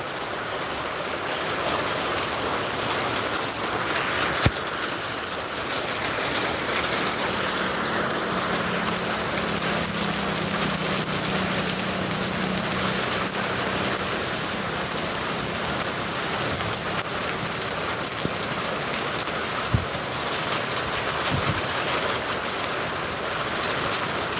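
Heavy rain falls continuously in Zaheerabad, Sangareddy district, India, in a thick, even roar, with a few sharp drip knocks and a faint low hum partway through.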